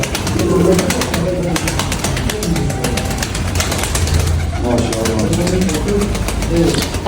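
Pigeons coo in repeated low, throaty phrases over a constant mechanical hum, with a voice talking throughout.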